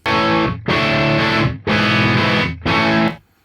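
Three sustained distorted electric guitar chords, each ringing about a second with short gaps, heavy and close, recorded with a 441 microphone with EQ and level boost, and a roomy reverberant tail at the end.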